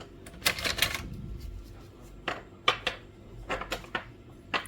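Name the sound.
removing printheads from a Canon G2770 printer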